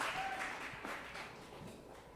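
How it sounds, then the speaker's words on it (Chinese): A church congregation at a Sunday worship service claps to welcome a young brother forward for his testimony, a soft, steady wash of applause heard from a distance for a couple of seconds. "那我们来拍手，来欢迎一下我们的以诚弟兄。"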